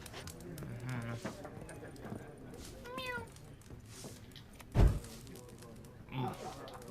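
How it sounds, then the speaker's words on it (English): A cat meows in The Witcher video game, with a short sharp meow and a fainter one later, set among game ambience and soft background sounds, with a person talking. "why can't I play with the cat?"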